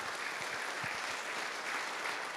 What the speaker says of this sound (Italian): e facciamo l'applauso perché lo merita